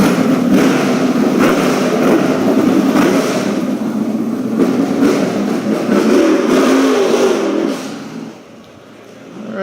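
A loud car engine revs hard and roars for several seconds at a car auction, then drops sharply before picking up again at the end.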